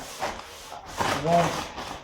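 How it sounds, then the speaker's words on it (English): Rhythmic scratchy rubbing of a medium sanding sponge on the edges of a wood table, several back-and-forth strokes up close, with a voice talking faintly underneath. "I'm going to do the edges with a medium sanding sponge"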